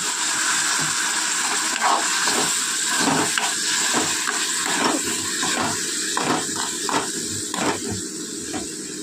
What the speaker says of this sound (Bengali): তো চলুন একটু কষিয়ে নিই, তারপরে এর মধ্যে দিয়ে দেবো একটু গরম মশলা গুঁড়ো আর সামান্য জল।